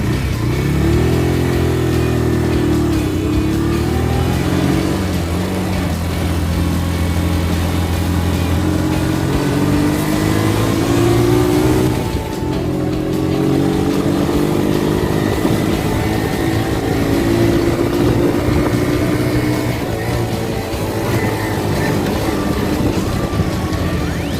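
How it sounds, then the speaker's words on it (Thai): Open-top convertible car ride on a sunny day, a steady loud engine hum and drone mixed with rushing wind, continuous throughout with slight shifts in pitch as the car speeds along. "วันนี้แดดดีๆ คุณพ่อก็พาขี่รถเปิดประทุนนะคะ"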